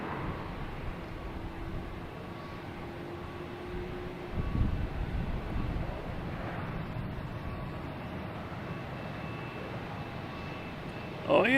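An American Embraer E-175 jet takes off at Boston Logan Airport, bound for Chicago, giving a steady, broad engine roar heard from a distance that holds fairly even throughout, with a faint thump near the middle.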